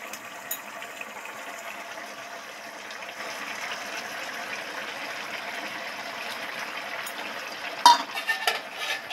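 Poppy seed paste with vegetables and spices is stirred in a pan, a soft low sizzle under scraping strokes that grow busier, ending in a few clattering knocks of utensil on pan.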